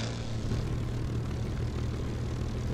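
A propeller plane's engine roars steadily at full power during takeoff in the War Thunder flight game, a constant loud drone with a low throbbing hum and no talk.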